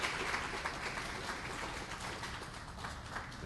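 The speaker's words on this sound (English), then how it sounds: "if we could have a round of applause for Dr." An audience at a formal lecture event gives a round of applause welcoming Dr. Brainerd, a soft, dense patter of clapping heard from a distance and sustained throughout.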